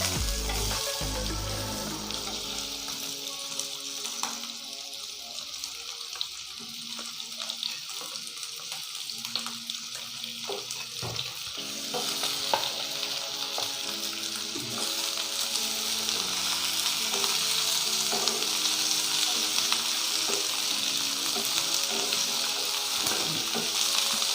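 Vegetables sizzling in preheated oil for a steamed chicken breast dish with potato fries, a steady frying hiss with light stirring clatter that swells slightly louder toward the end, with no talking.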